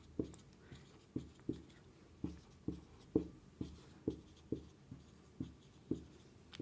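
Chalk or marker strokes on a classroom board during a matrices lecture, a regular series of sharp tapping scrapes about every half second, fairly close and fairly quiet, with no talking.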